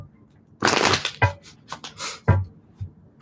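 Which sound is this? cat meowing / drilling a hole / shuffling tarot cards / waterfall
shuffling tarot cards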